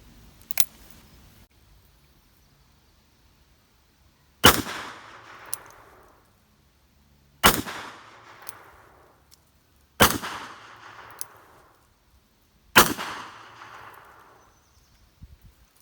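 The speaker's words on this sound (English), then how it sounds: "let's do a quick shot with those Cowboy loads into this apple" A Taurus Judge revolver fires Cowboy loads into an apple: five loud, sharp shots spaced a few seconds apart, each followed by a brief decaying ring, with near silence between.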